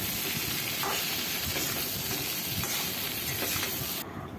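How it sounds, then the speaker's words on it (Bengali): Chana and jackfruit pieces fry with sugar in oil in a pan, giving a steady, dense sizzle with faint stirring scrapes and no voices. "এবার আমি এটাকে ভালো করে ভেজে নেব সব কিছু মিলিয়ে।"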